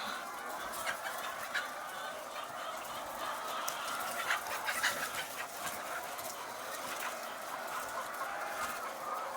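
Many chickens clucking and squawking together on a poultry farm in a constant noisy chorus, dense and continuous throughout.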